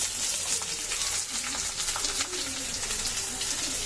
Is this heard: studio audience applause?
no